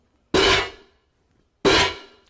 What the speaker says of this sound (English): I might say wet clank, which is a little more ringing.